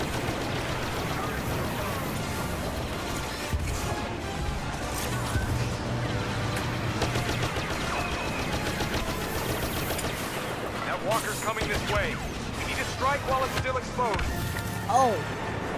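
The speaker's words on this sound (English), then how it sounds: "spammy spam pistol" Rapid pistol fire in Star Wars Battlefront's Walker Assault mode, shots packed densely amid a busy battle mix of blaster fire and explosions, with a voice talking over parts of it.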